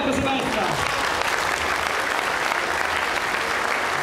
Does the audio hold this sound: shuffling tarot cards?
no